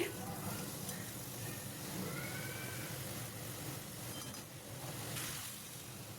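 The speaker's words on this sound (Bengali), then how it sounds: "ভাজা খয়রা মাছ দেওয়ার পর একটু মশলার সাথে কষিয়ে নিচ্ছি" Fried khoira fish stirred and sautéed with spices in a pan, a steady sizzle with soft scraping stirs running throughout, close and moderately loud.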